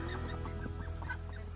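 Silver ducks and drakes gathered in a large pen call out in repeated nasal, honking quacks that overlap one another, close by, over a steady low background hum.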